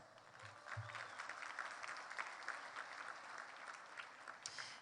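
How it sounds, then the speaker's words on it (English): Audience applause for a congressman at the Harlingen 2023 State of the City event, a steady wash of clapping from a crowd that holds at an even level for the full few seconds. "If you can give him a round of applause as well."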